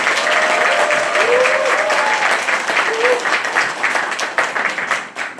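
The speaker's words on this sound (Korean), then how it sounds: "우리 아이들에게 좀 큰 박수 좀 보내주시기 바랍니다" A hall audience at a 2022 graduation project presentation gives loud, enthusiastic applause for the students, with a few whoops and cheers rising over dense clapping that tapers off at the end.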